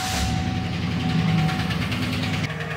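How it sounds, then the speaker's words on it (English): An engine with a failed AFM lifter runs close by, giving a loud, steady mechanical drone with a faint rhythmic ticking layered over a constant hum. "this will be a first start and run"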